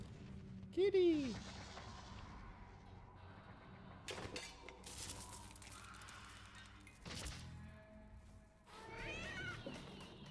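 A cat meows once, close and clear, in a video game trailer, followed by crashing and shattering effects and game sounds, with voices talking over parts of it.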